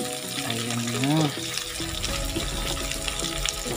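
Water poured from a tap into a cooking pot while making pinakbet, a steady splashing fill with a rising tone as the pot fills. A voice is heard over the running water.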